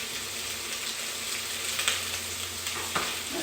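Red bell peppers sizzle steadily in a hot pan, a continuous close frying hiss with a few brief clatters of stirring and no voices over it.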